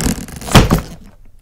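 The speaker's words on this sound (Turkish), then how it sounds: "Kapı sesini yapmak için bir bavul ve bir film makarası kullanılıyor." A single heavy thud like a door slamming shut, made as foley with a suitcase and a film reel, with a brief rattle before it and a short decay after.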